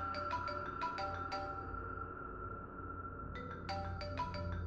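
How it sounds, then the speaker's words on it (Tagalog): A cellphone rings with a repeating electronic ringtone, a quick melodic pattern of bright tones that breaks off briefly and then resumes. It plays alone, at moderate volume, with a low steady hum underneath. "nagre-ring na cellphone."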